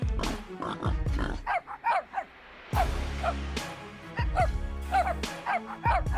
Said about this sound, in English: The sound of the hunting dogs suddenly echoed from deep inside the forest.